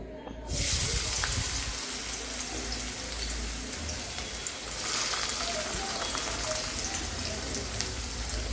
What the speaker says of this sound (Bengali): হাইব্রিডের টমেটো একসাথে দিয়ে দিলাম এবার এটাকে ভাজবো